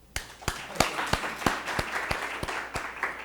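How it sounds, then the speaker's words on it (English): Audience applause for a local organizing committee at an international quantum science event, with crowd clapping, sharp individual claps standing out above the steady patter, sustained and fairly close throughout. "let's just applaud them"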